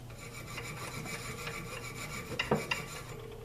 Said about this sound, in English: Now I'm going to take some medium grit steel wool and just go over